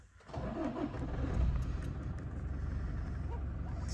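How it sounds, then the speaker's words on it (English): A 2019 Toyota Hilux 2.4 D4D Invincible X double cab starts up, its diesel settling quickly into a steady, fairly loud idle that carries on close by. "if I start the vehicle up, give me just a second"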